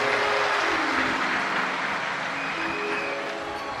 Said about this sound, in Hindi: एक बार सभी विदिशा वासियों के लिए जोरदार ताली बजाकर स्वागत, वंदन, अभिनंदन